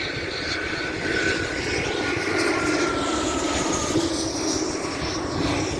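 A propeller airplane drones overhead near Denver, a steady, fairly loud engine roar with no voices.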